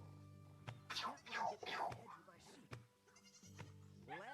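Cartoonish sheep bleat repeatedly in the DvG virtual reality game, several wavering calls close together at moderate loudness, mixed with brief clicks and scraping game sounds.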